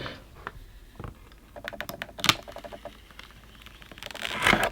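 Plastic shrink wrap being peeled off an iPhone 12 Pro Max box, heard as a close, dry run of crackling and ticking with a louder crinkling burst near the end.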